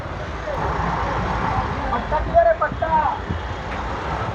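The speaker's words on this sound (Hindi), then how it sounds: "तो आज बहुत बहुत ट्रैफिक दिख रहा है रास्ते पे" Busy road traffic in India, with a continuous rumble of cars, trucks and buses passing nearby and a few horn-like tones, while someone talks over it.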